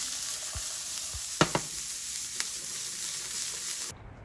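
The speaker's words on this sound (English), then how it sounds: "You hear that? That is sizzling, and that sizzle sound is sexy." Steady, bright sizzling of celery and onions frying in hot fat, with a few soft stirring knocks partway through, close by and continuous.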